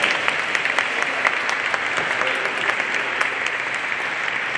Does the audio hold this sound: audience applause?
yes